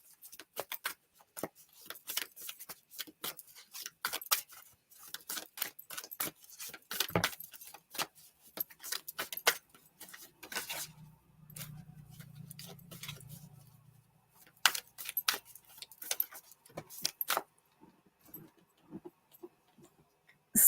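An oracle card deck being shuffled by hand, giving quiet, rapid crackles and flicks that come in dense bursts with short pauses, close to the microphone, with no talk over it.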